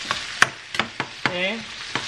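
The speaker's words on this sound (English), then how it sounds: "sauteing these for about 3 to 4 minutes" Shrimp sauté in a pan with a light sizzle behind a series of sharp taps and scrapes from a utensil moving them around, close and fairly loud.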